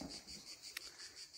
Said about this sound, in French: Les cigales, elles se mettent carrément à chanter.